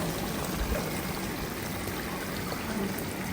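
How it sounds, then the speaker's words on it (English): Tomato sauce pours into a one-pot Zongo waakye stew, a soft steady stream of liquid splashing and trickling, faint and continuous for a few seconds without talk. "Add our tomato sauce"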